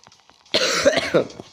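A single harsh cough, close and fairly loud, preceded by faint breathy sounds.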